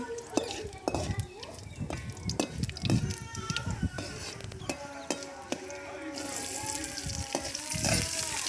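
Onions sautéed with dried red chillies in a pan for a village-style mushroom dish, with crackling sizzle and repeated clinks of a ladle against the pan while a voice talks throughout.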